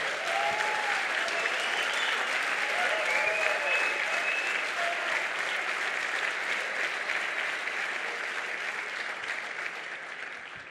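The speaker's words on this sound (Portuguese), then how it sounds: "Aplauda o Senhor por isso." A church congregation applauds steadily for several seconds, a dense, even wash of many clapping hands that tapers slightly toward the end, with faint whistles or cheers rising over it.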